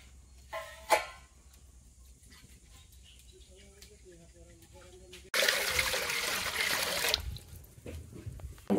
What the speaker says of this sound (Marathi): पातेलं ठेवते आधी नुसतं आणि त्यात पाणी घालणार